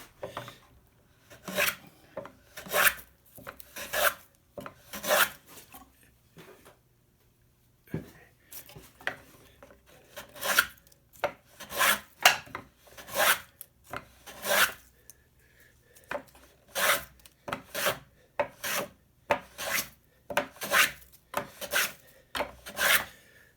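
A hand plane cutting across the grain of wood while shaping a raised panel: rhythmic rasping strokes in quick bursts, each a short swish, with a brief pause partway through, close and clear.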